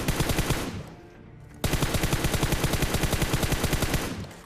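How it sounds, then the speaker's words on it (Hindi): Rapid automatic gunfire from PUBG Mobile, loud and dense: a sustained burst, a brief pause, then a long continuous stream of evenly spaced shots. "देखो एक तो कोचिंग के पीछे वाली साइड से गन फाइट के साउंड आ रहे हैं"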